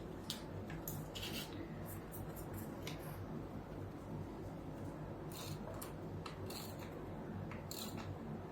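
Scissors snip through a paper strip for card making, a series of quick crisp cuts spread unevenly over a faint steady background hum.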